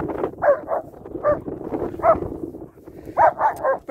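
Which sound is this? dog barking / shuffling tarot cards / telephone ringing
dog barking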